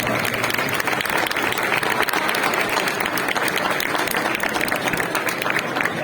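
Loud, sustained applause from an audience at a cheese auction of the winning Gamoneu cheeses, dense clapping filling the whole stretch without pause.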